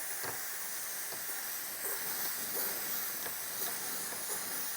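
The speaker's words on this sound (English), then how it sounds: "Get a little bit ahead of yourself with the steam, and that will, again, just like the heat gun, that'll soften up that adhesive." A steamer hisses steadily while softening the adhesive under paint protection film on a car, a constant breathy rush with faint clicks and taps beneath it.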